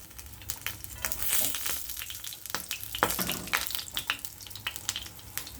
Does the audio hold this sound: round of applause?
no